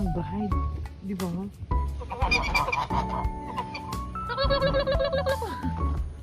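Turkeys on a flower farm calling with loud gobbling, warbling bursts close by, mixed with clucking fowl while people talk over them throughout.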